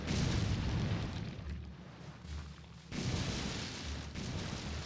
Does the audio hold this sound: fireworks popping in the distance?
yes